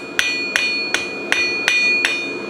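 A blacksmith's hammer strikes the handle of a steel toasting fork to taper it, six sharp ringing blows at a steady rhythm about a third of a second apart, close and clear with no talk.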